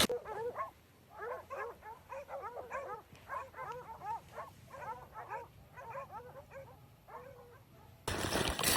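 Hunting dogs barking during a solo wild hog hunt in a Florida marsh, a rapid series of repeated barks and yips at moderate distance, continuous for several seconds before a sudden burst of noise at the end.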